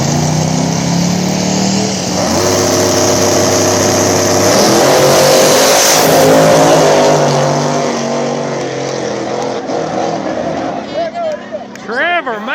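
Two small-tire drag cars, a nitrous-fed car against a twin-turbo LS car, roar loudly together at an Ohio back-of-the-track race, engines screaming through the pass, with crowd noise and talk throughout.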